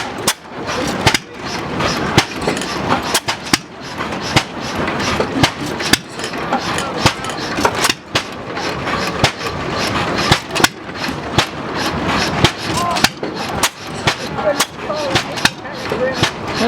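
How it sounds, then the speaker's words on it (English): An antique hot tube engine runs at an outdoor engine show under the Arizona sun, firing in sharp, rhythmic popping exhaust beats at close range while people talk nearby. "It's a hot tube engine."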